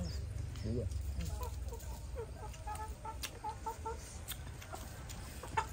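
Farmyard chickens clucking and chattering as they follow a person, a series of short close calls over a steady low rumble of outdoor background, with voices talking now and then.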